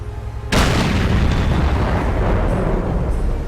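Tank gun firing in the video game World of Tanks, modded to sound realistic: one sudden, heavy boom lands after a brief quiet moment and then rolls into a long, rumbling echo that fills the rest of the clip.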